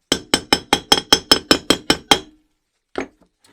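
About ten quick, evenly spaced hammer taps ring out on a fully seated Jaguar independent rear suspension hub bearing, close by, followed by a pause and one last lighter tap.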